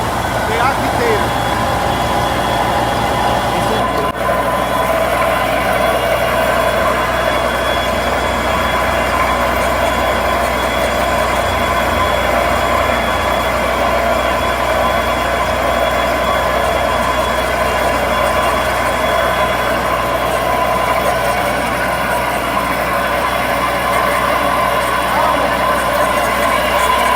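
Concrete mixer agitator drum running beside a concrete pump setup, a steady loud droning engine rumble with mechanical churning that holds constant throughout with no talking.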